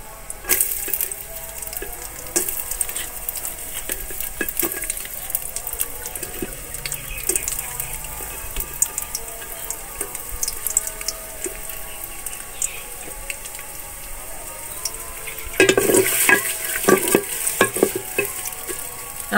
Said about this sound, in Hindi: अब प्याज को फ्राई कर लेंगे।